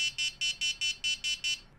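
A rapid series of eight shrill electronic beeps from an Arduino ultrasonic-sensor collision detector, object about 0.6 metres away, at an even, quick rhythm, loud and close, with no other sound.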